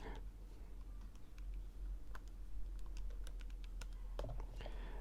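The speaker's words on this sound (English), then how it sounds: "Typing in your calculator" Soft rapid clicks of calculator keys being pressed, irregular taps spread through the clip over a low steady background hum, close and faint.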